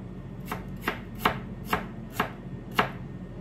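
A knife slices through onion on a board during Iftar meal prep: six crisp, close chops, evenly spaced about half a second apart, with no talking.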